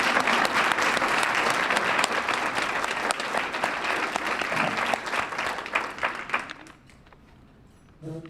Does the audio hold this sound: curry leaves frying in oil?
no